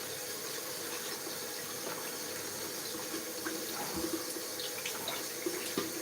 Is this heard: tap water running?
yes